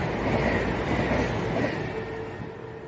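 At Water Orton station, a Voyager train rumbles past with a loud, steady roar of wheels and engine that eases slightly toward the end, and no one speaks over it.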